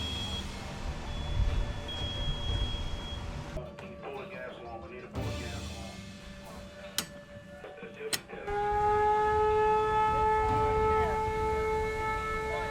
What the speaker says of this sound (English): you'll hear either a loud fire warning or a gas alarm